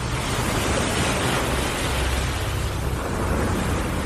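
Storm-whipped ocean waves surge in a steady, loud roar of dense rushing noise that fills the whole moment without pause, with no voices.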